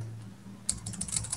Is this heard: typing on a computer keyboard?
yes